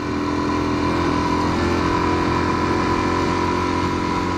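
A motorcycle engine runs steadily and close by as the rider pulls away in first gear on a little throttle, a constant loud drone with no clear revving, no talking.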